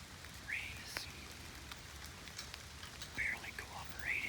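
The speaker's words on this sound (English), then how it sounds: "We've had a lot of rain off and on all afternoon." Rain falling steadily outdoors during an afternoon bow hunt in Ohio, a soft continuous patter with faint chirping in the background and a few quiet, unclear sounds.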